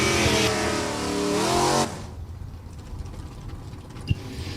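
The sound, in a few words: Camaro drag racing in E-Stock Automatic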